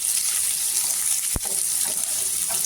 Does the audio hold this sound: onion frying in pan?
yes